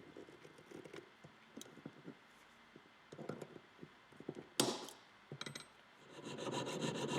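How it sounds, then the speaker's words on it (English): A small saw cuts through thick sprues on a wax casting, giving a close, quiet rasping with uneven strokes and scattered taps, ending in a steadier rubbing scrape. "Any thicker sprues can be sawn off."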